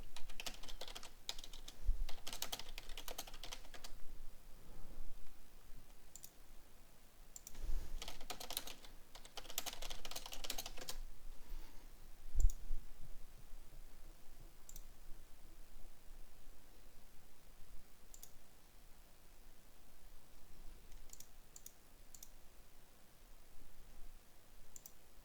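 Computer keyboard typing: scattered bursts of key clicks and a few clustered flurries over a long, quiet stretch, soft and close, with occasional isolated taps between the bursts.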